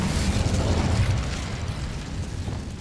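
An Incendio fire spell cast in Hogwarts Legacy: a loud, rushing burst of flame that swells at once and then slowly fades, heard alone with no voices.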